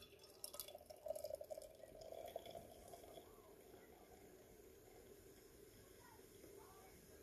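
Beer pours from a can into a glass, a steady low liquid gush with faint fizzing that holds evenly for several seconds, fairly quiet and close, with no talking over it.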